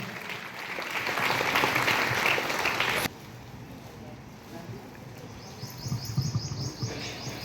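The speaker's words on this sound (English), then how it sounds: "Give a big round of applause to her." A crowd applauds a student called up to the dais at a school ceremony for tenth-class exam results. The clapping is loud and sustained for about three seconds, then cuts off abruptly, leaving quieter background sound with faint bird chirps.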